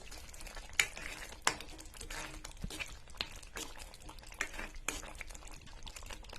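Homemade Schezwan chutney being stirred in a pan after black pepper powder goes in, with a soft bubbling simmer and a few sharp clinks of a spoon against the metal pan at a steady, unhurried pace.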